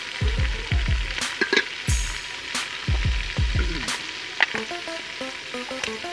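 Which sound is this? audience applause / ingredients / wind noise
ingredients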